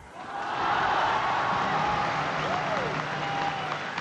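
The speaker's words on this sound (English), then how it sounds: "Once again, you hear that crowd cheering." Crowd at a men's team final of a world gymnastics championship cheering and applauding a dismount, a sustained roar of clapping and voices that swells in quickly and holds, with a commentator talking faintly underneath.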